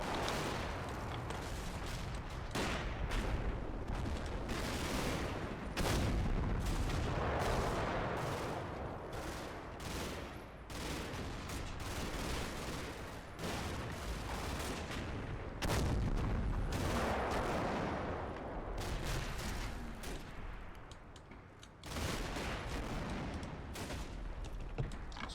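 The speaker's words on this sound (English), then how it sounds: "So finally it looks like these mortar teams here are getting their eye in." Mortar and gunfire in the Combat Mission video game, a dense, sustained battle of repeated booming impacts and crackling shots with brief lulls, loud and continuous throughout, with no voices.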